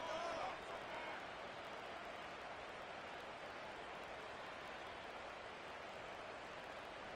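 In a Madden football video game, the stadium crowd gives off a steady, distant roar of noise with a brief swell of cheering at the start, continuous and unbroken throughout.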